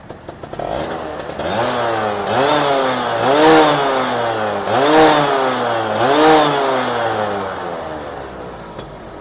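Yamaha F1ZR two-stroke motorcycle engine from around 2000–2004, running and revved repeatedly, with four or five sharp rising-and-falling blips over a buzzy idle, close and loud, no talking.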